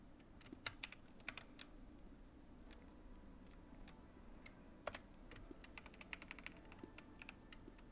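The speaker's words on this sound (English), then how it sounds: "Giggling at the rapid typing noises." Rapid clicking of keyboard keys, quiet and close, in fast irregular bursts over a low steady background.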